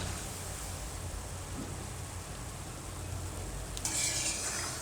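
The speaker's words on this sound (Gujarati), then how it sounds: "તો આને આપણે ધીમા ગેસે આ રીતના તળાવવા દેવાના" Bread gulab jamun balls frying in oil over a low flame, giving a steady, close sizzle that swells brighter near the end, with no talking.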